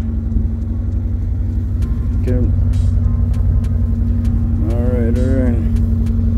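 A Honda car engine runs at a steady, warmed-up idle with a constant low hum close by, while a person speaks briefly over it.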